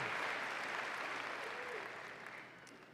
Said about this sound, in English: Let's give all these folks a round of applause for their help and participation today